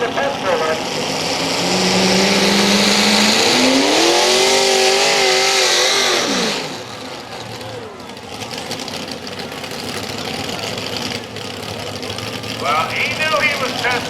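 Tractor pull truck engine roaring loudly as it revs hard down the track, its pitch climbing and wavering before the sound drops off sharply; an announcer talks over the noise throughout.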